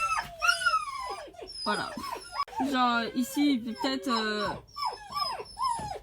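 Several dogs whine, yelp and howl in the back of a car, with close, high-pitched cries coming in repeated bursts while a person talks over them.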